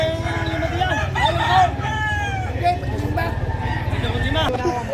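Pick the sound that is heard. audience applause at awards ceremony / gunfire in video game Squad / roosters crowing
roosters crowing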